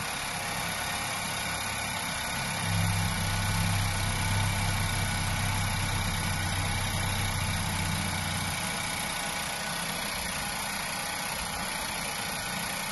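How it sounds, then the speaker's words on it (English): A 2016 Nissan Qashqai with a 1.2 turbo petrol engine idles steadily after an engine replacement, giving a smooth, constant low hum with a slightly stronger rumble in the middle stretch and no voices. "As you can see and hear, the vehicle's running nice and smooth now."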